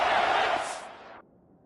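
A stadium crowd roars for the defense at a college football game between USC and Maryland. The loud, broad cheer swells for about a second, then cuts off abruptly, leaving faint background noise.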